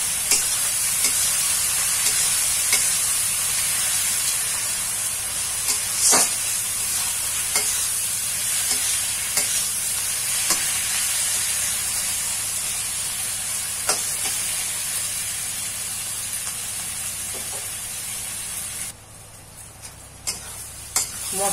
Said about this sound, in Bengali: এবার এটাকে ভালো করে কষে লাল লাল করে ভেজে নেব